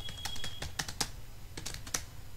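Quick bursts of keystrokes on a computer keyboard while C code is entered, close and fairly quiet, with irregular clusters of taps and brief pauses, and no talking over them.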